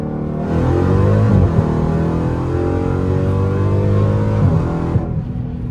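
A supercharged Dodge Hellcat Redeye accelerates hard, its very loud exhaust holding a sustained deep roar with rising engine tones, close and steady from start to finish.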